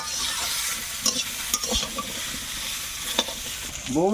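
Chunks of elephant foot yam and potato frying in oil in a pan, a steady crackling sizzle with a few sharp stirring knocks and scrapes against the pan, close up and with no talking.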